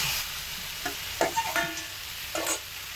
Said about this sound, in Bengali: ভেজে রাখা বেগুন আর আলু দিয়ে দিচ্ছি